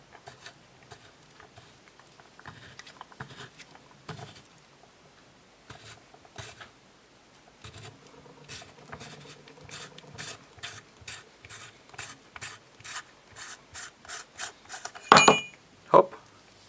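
The lens ring on a MIR-20M camera lens is unscrewed in short, faint metallic clicks and scrapes, irregular and close, building to a couple of sharper clacks near the end.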